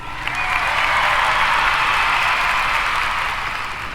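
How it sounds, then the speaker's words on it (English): Sustained audience applause fills the room, a dense steady wash of many hands clapping that holds loud and even before easing slightly at the end. "And I think that deserves an applause."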